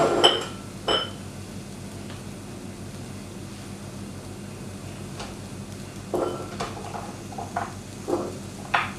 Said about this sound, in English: I'm just going to place them in a different bowl